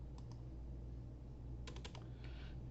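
Typing on a computer keyboard while coding at a desk, two quick keystrokes then a short burst of clicks and a few more taps, faint and close over a low steady room hum.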